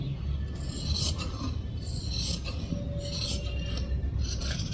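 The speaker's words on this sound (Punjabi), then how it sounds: "ਹੁਣ ਆਪਾਂ ਇਹਦੀ ਜਿਹੜੀ ਕਟਿੰਗ ਹੈ ਉਹ ਕਰ ਦਾਂਗੇ" Fabric is cut for a kameez with scissors or a blade, a scraping, rasping sound that repeats in short strokes over a low background hum, close by and fairly quiet.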